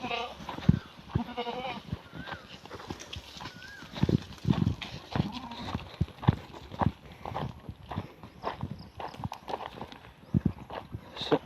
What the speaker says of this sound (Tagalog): dito kasi yung ating mga alagang kambing